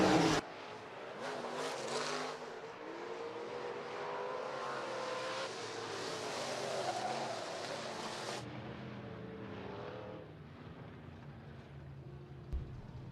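Stock cars roar around the track during a heat race at Rapid Speedway, a loud and sustained engine drone that swells as the field passes and then thins out as the cars move away.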